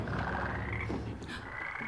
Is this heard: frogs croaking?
yes